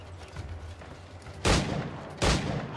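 Gunfire in Assassin's Creed IV Black Flag: two loud, sharp shots roughly a second apart, standing out over a low rumbling game background with no talk.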